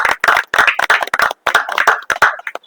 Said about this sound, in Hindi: तो मैं एक बार जोरदार तालियां इसके लिए